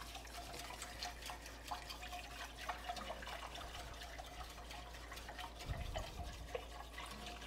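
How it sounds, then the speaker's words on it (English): Chicken broth is poured into a pot for a chicken, bacon and corn chowder and stirred, a faint, steady liquid trickle and splashing throughout. "now we're going to add in 2 cups of chicken broth and give that a stir"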